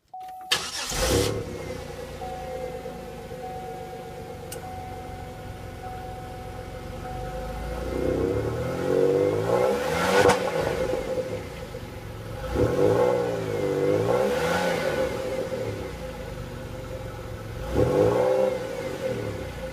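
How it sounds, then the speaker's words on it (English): A 2005 Pontiac Bonneville with the 3800 Series 2 V6 cranks and fires up, settles into a steady idle, then its exhaust swells through three separate revs, each climbing and falling back, heard close with no talking. "I'll go ahead and get you an exhaust clip here."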